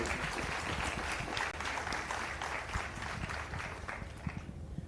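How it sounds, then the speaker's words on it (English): A sales workshop audience gives a round of applause: dense, fairly faint clapping holds steady for several seconds and then tapers off, with no talking over it. "Big round of applause."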